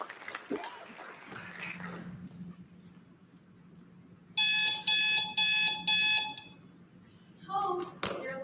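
An alarm clock rings in a school play of Frog and Toad, sounding as several loud, bright electronic bursts in quick succession on stage after a quiet stretch.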